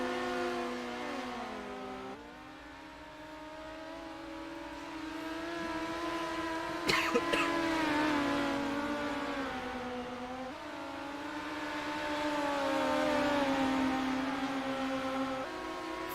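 Midget race cars circling a dirt oval at Volusia during a heat race, engines droning and revving with rising and falling pitch as cars pass nearer and farther, a brief sharp burst midway, no talk.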